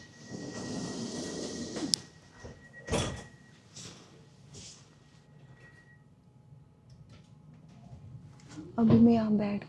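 Tram doors sliding and thudding shut with a sharp clunk, then a loud slide and bump, over a quiet electric hum of the tram interior; a voice speaks at points and a brief chime sounds near the end.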